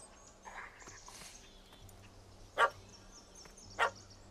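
A dog barks twice in the Witcher 3 video game, each a short sharp yelp about a second apart, standing out above a quiet ambient background with soft rustling.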